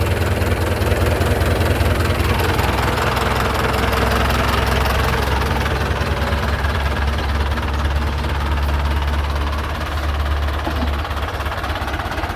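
A heavy truck engine idles loudly and steadily, a constant low rumble with a rough, knocking texture throughout.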